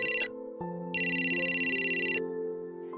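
A mobile phone rings close and loud with an urgent call, its electronic ringtone pulsing in rapid bursts over a sustained musical tone, with a short break between two ringing passages.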